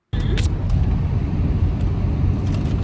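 Steady engine and road rumble from inside a moving classic truck, loud and continuous with a few faint clicks, no talk.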